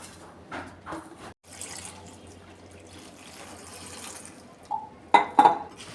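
Fresh amaranth greens (chalai) are rinsed in a bowl of water, with sloshing and splashing that build to a few sharper splashes near the end. No one speaks.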